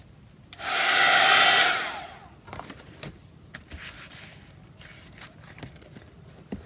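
A handheld blow dryer runs in a steady loud whoosh for about a second and a half, drying acrylic wax on a book cover, then cuts off, leaving faint handling clicks and rustles.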